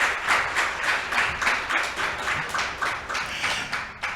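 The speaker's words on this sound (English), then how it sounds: "Give yourselves a round of applause." Audience applause at a creative writing showcase, a moderate patter of clapping hands in a steady uneven rhythm, fairly close and sustained across the moment without speech over it.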